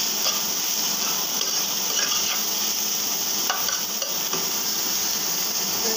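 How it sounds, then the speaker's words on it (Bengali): Chopped onion fries with radish greens in a pan while being stirred. A continuous close hiss and sizzle carries occasional scraping clicks of the utensil against the pan, with no voices. "এখন আমি পেঁয়াজটা ভালো করে ভেজে নেব। সাথে আমি শাকগুলো নিয়ে দিয়ে দেব।"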